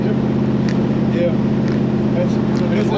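High-revving V8 exhaust from a hot rod squarebody truck, a dense steady drone held loud and constant throughout, with no letup.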